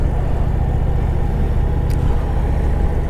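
An Indian motorcycle's 112 cubic inch V-twin rumbles steadily while cruising on a Sunday ride, a loud, low, even throb with road and wind noise, no talk.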